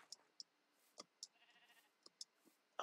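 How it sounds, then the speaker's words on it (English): A sheep in modded Minecraft bleats faintly amid soft, scattered game clicks and ticks, the bleat brief and distant under sparse sharp taps. "Okay, I hear sheep."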